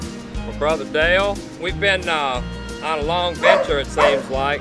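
A dog barks repeatedly in the background in short, rhythmic bursts, clearly heard under someone talking throughout.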